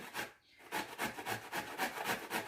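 Soft zucchini rubbed back and forth over a kitchen grater in quick, rhythmic rasping strokes, close and fairly loud, with a brief pause near the start.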